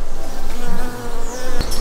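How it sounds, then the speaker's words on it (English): A male honeybee buzzes close by in a steady, continuous drone with a slight wavering pitch, loud and alone without talk. "Male bee."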